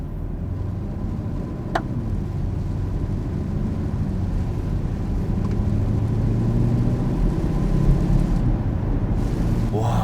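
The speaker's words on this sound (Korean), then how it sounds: "이 밑에 깔리는 배기음이 굉장히 고급스럽습니다" A BMW X7 M50i V8 SUV pulls away at low speed in city driving, its exhaust giving a deep, smooth, continuous rumble heard from inside the cabin, steady and fairly loud with a faint click early on.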